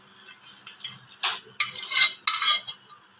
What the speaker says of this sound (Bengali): সব কিছু ভালো করে মেখে নেব।